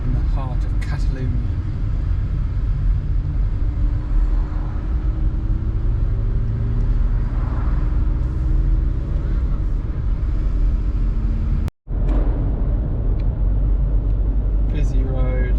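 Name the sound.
cars passing on a busy road in Catalonia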